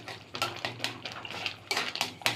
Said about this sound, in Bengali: এখানে খুন্তির সাহায্যে আমগুলি ভালোভাবে ঘেটে দিব